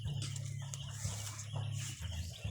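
Chickens clucking nearby in a short burst, with a low steady hum underneath and some rustling.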